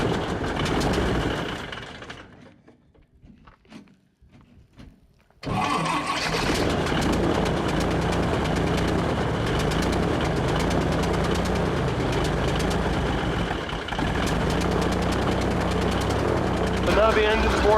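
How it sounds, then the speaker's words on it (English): A fan boat engine on an island in snowy wilderness catches and settles into a steady, loud idle after a brief quiet gap, running continuously close by with a rough, throbbing drone. "Now the engine's warmed up. I'm just going to let it run at an idle for a bit here"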